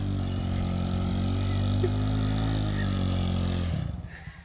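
A 1963 Ford F100 unibody long-bed shop truck engine holds a steady, loud idle-to-rev drone with strong low harmonics for several seconds, then the engine note cuts and fades away near the end.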